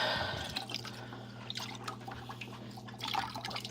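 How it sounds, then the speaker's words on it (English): An aquarium filter sponge being washed in dirty tank water gives off quiet drips and small splashes over a low steady hum, close by, with no talk. "wash the sponge off in this dirty water"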